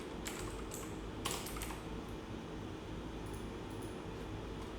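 Computer keyboard keys tap in quick, faint bursts over a steady background hum while login details are entered.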